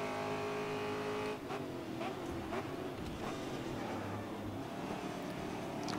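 Race car engine in the video game Grid Autosport drones steadily at high revs, with shifting engine pitch and brief tire and gear sounds throughout, loud and continuous.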